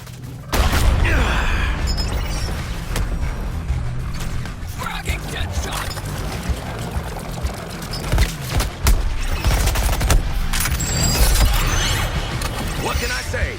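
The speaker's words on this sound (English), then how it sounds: "The big gun's firing!" A big gun booms repeatedly in a Suicide Squad: Kill the Justice League fight, its heavy blasts and mechanical clanks running dense and loud throughout, with voices speaking over parts of it.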